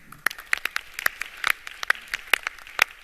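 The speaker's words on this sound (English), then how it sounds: "It's got to deserve a round of applause." Sparse, scattered clapping from a small conference audience at a bioeconomy session, with individual claps clearly distinct in an irregular rhythm.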